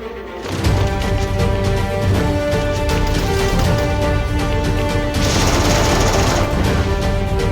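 A Thompson submachine gun in a video game fires a long, loud, continuous burst of rapid shots after a brief quiet start, with a sharp metallic rise in the later part.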